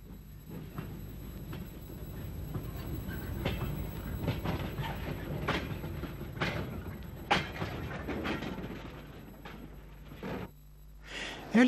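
An Irish J30 0-6-0 tank locomotive, number 90, later preserved, runs on a West Cork line with a steady rolling rumble and scattered clanks and beats, moderately close on an old recording, ending in a sharper squeal.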